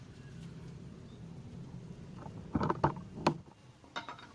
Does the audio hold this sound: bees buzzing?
no